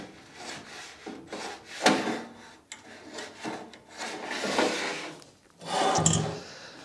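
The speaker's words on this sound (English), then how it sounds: "we'll scribe a line same distance away from the head" A height gauge's metal point scribes repeatedly across a surface in several rasping strokes of varying length, close and fairly quiet, with short pauses between.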